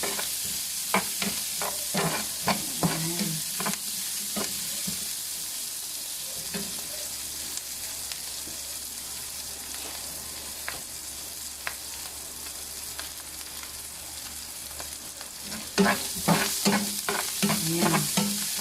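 Onion and chorizo sautéing in a pan for Filipino chicken pastel, a low steady sizzle under repeated stirring and scraping clicks that bunch up at the start and end, no talk.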